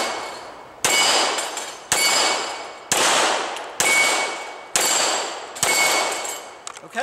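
Handgun shots fired one-handed at 6-inch steel plates from 10 yards: six sharp, loud reports at about one-second intervals, each followed by a ringing metallic clang that decays before the next.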